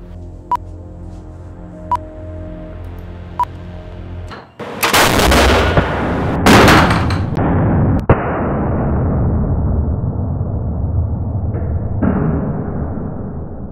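A test rig fires sabot projectiles into a wheel-shaped panel for the Bloodhound supersonic car, giving one sharp, very loud blast with a long rumbling decay and a couple of further bangs, after a few short warning beeps.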